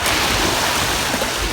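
Close, loud surf rolling onto Massandra beach in Crimea, a continuous rushing wash of seawater with some low rumble and possible wind buffeting on the microphone, with no one speaking.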